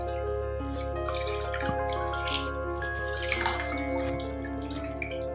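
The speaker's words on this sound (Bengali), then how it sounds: "পালং শাকগুলো ঠান্ডা জলে ভালো করে ধুয়ে বাড়তি জলটাকে চিপে ফেলে দিচ্ছি।" Excess water squeezed from spinach washed in cold water, dripping and trickling over a steady tonal hum in a kitchen.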